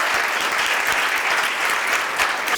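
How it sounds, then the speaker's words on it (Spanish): A university audience at a three-minute thesis competition claps for its doctors, dense sustained applause from a large crowd filling the room, steady and loud throughout. "Un aplauso para ellos otra vez."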